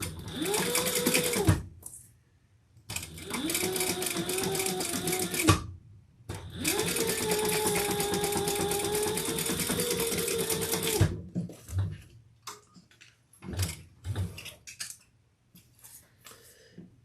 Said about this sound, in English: And then we're going to sew that with the seam allowance in the pattern.